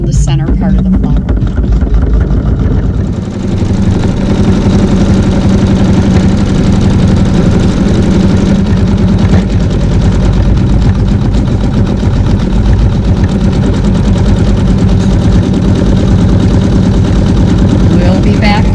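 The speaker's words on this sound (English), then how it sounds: "I'm going to sew the satin stitch around the center part of the flower" An embroidery sewing machine stitches a satin stitch around the centre of a Fleur de Lis block, running as a loud, fast, steady mechanical rattle and hum for the whole stretch, close by and without talk.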